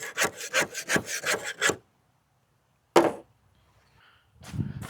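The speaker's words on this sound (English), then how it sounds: "I'm going to have to scrape this whole top down" A scraper is dragged repeatedly across the old vinyl top of a car, several quick rasping strokes in a steady rhythm, then silence, then a single stroke and a softer scrape later, close and alone.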